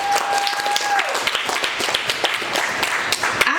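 Dense, steady clapping from an audience at a school awards dinner, with a voice briefly audible over the applause at the start.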